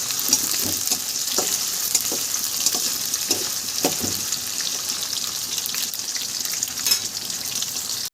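Onions and green chillies fry hard in a pan, giving a continuous loud sizzle with soft stirring scrapes and clinks at an irregular beat throughout.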